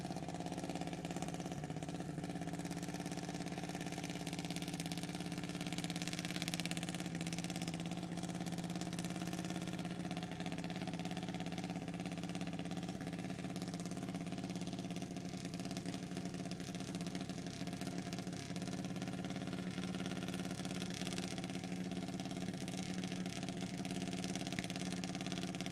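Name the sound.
drag racing cars idling at the starting line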